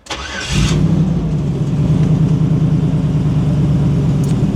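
A big block V8 car engine with computer system issues cranks briefly, then catches and fires up to a loud, steady, rumbling idle that continues close and unbroken with no talking.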